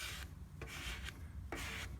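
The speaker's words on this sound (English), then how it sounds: "Take your time squeegeeing it." Squeegee strokes pushing a wet vinyl decal flat, giving a few faint rubbing, rasping swipes in quick succession, close and quiet with no talking.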